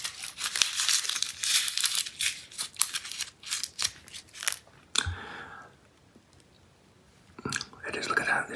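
Chewy Werther's Original vanilla creme soft caramel candy being unwrapped and eaten up close, with loud crinkly wrapper rustles and sticky chewing clicks, then a quiet pause before more crackling; soft whispered talk runs through it.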